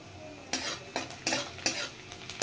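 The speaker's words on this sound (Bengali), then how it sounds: "আর এদিকে পেঁয়াজটাও ফ্রাই হয়ে এসছে" Onions frying in a pan give a soft background sizzle, broken by several distinct scrapes and clatters from a spatula stirring against the metal, spaced unevenly and fairly close.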